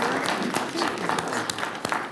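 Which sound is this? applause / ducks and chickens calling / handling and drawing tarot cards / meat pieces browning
applause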